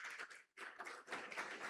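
An audience claps to welcome a speaker onto the stage at an event, a faint, steady patter of many hands with one brief lull.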